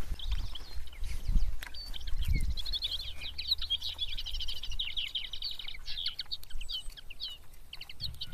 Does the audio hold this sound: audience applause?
no